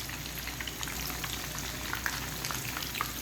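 Fish pieces frying in hot oil, a steady close sizzle with scattered pops and crackles and no voices.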